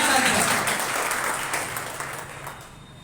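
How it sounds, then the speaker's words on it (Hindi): Loud audience applause fills a hall, a dense burst of clapping that gradually fades away over a few seconds. "इनके लिए जोरदार ताली।"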